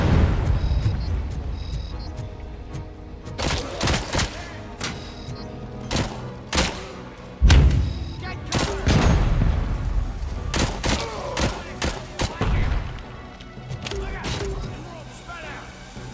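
Rapid gunfire bursts and heavy shots from the RoboCop video game, loud and repeated in irregular volleys with booms throughout.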